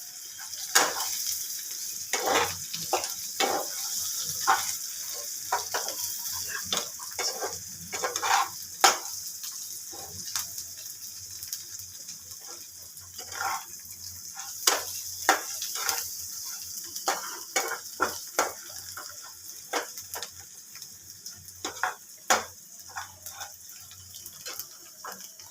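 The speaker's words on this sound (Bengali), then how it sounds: "আতপ চালটা ভাজা হবে, কিন্তু রং ধরবার আগেই ভাজা হবে" Atop (sun-dried) rice grains sizzle and crackle as they fry in a pan for a rice and egg dish, with steady frying noise and frequent stirring scrapes throughout, no talking.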